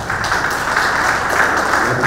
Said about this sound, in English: I think we all need to give him a round of applause